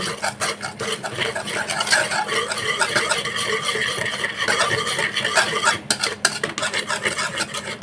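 Lumpia wrapper batter of flour, salt and water is whisked in a bowl, giving quick, close, rhythmic scraping and sloshing strokes that continue throughout.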